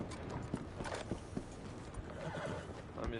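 A horse in Red Dead Online, a Western video game, whinnies among clip-clopping hooves and ambient noise, the neigh and hoofbeats fairly close and steady throughout.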